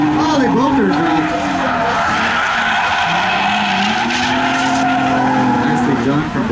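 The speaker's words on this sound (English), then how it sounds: "have you ever seen your car drift like this?" Drift cars skid side by side at a drifting competition in Texas, tires squealing loudly and continuously with engines roaring close by, while a commentator talks over the noise.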